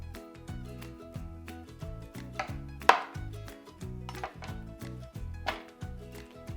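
Repeated knife or blade strokes trimming a zucchini or cucumber on a cutting board, a steady series of close, crisp chops with a background of dull thuds and one sharper clack partway through.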